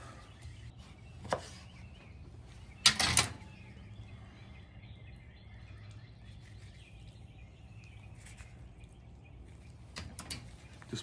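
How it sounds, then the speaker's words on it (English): A knife breaks open a whole raw chicken being flattened for a griddle, giving a sharp crunchy cut near three seconds plus a fainter snap earlier and late, close and otherwise quiet. "I'm just going to take a knife and go right there and just break it open."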